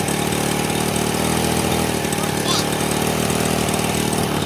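A Honda portable generator engine running roughly and barely staying alive, a continuous close mechanical drone with steady uneven hum throughout.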